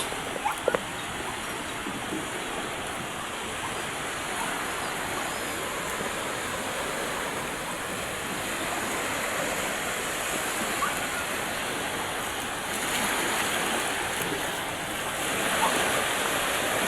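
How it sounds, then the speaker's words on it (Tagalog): Rough, choppy sea waves at a shore or boat during a pre-dawn fishing trip, heard as a steady broadband wash and roar with wind, continuous and moderately loud throughout. "oh, maalon masyado"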